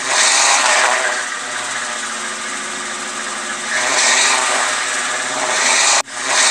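A voice imitates a car engine with a continuous, breathy, roaring rush that swells and eases over several seconds, close and loud, and then cuts off abruptly.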